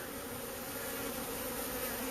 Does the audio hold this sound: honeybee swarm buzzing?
yes